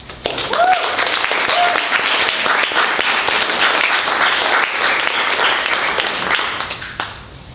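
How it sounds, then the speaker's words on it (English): A room full of people claps enthusiastically and steadily for several seconds, with some cheering mixed in, before the applause begins to fade. "Please give it up for Claire."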